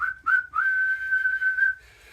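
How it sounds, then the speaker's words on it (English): A referee's whistle in a Subbuteo-style tabletop football league match, two short toots followed by one long sustained blast, clear and close with no talking over it. "the referee's going to blow his whistle"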